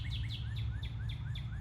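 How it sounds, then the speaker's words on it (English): Small birds chirping outdoors, a repeating series of bright, sliding tweets, moderately near, over a steady low background hum. "Oh, these birds. It's lovely"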